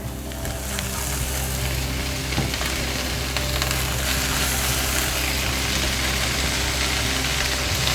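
Beet leaves dropped into a pan of browned garlic fry with a loud, steady sizzle and crackle lasting the whole stretch, close up and with no talking.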